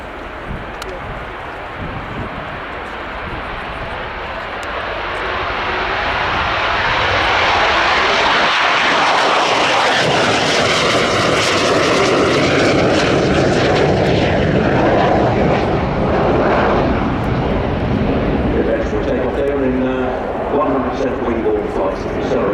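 An EAV-8B Matador II Plus Harrier jet at an airshow swells from a distant rumble into a loud, close, roaring pass, its whine sweeping in pitch before easing off, with a voice commentating over it.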